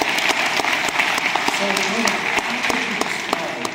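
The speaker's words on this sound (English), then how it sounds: "Give me a big round of applause." Conference audience applauding, a dense wash of clapping that holds steady for a few seconds while someone talks over it.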